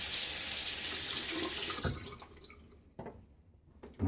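Tap water running steadily while a Gillette Fat Boy safety razor is rinsed under it, a close splashing hiss that stops partway through, followed by a few drips and light handling clatter.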